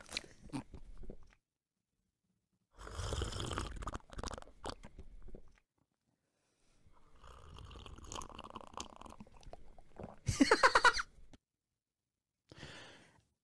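Someone slurps and gulps a beer close to the microphone in several separate bursts of wet sucking and swallowing, with quiet pauses between them and one louder, harsher slurp near the end.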